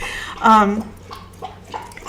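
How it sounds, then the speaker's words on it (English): A dog laps up water at length nearby indoors, a wet, rhythmic slurping that carries on behind a person talking. "this dog is drinking a lot of water behind me."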